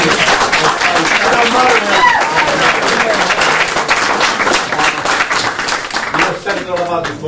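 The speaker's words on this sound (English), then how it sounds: "let's give an applause to our speakers" Audience applause for the speakers at a conference question-and-answer and final session, steady sustained clapping from a crowd filling the whole stretch, with a voice talking over it.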